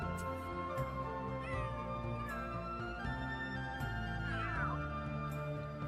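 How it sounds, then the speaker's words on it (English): A cat meows repeatedly in the video game The Sims 3, several drawn-out, wavering calls rising and falling over a steady background of game music. "Blossom Star meowed"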